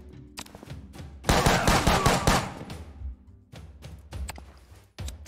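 Gunfire in the John Wick Hex action-strategy game: a few sharp shots, then a dense burst of rapid gunshots for about two seconds, followed by scattered single shots, loud and close with no talking.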